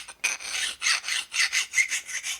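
A hand file rasps against the metal edge of a custom motorcycle bracket, with about eight rhythmic push strokes close by and short pauses between them, and no talking.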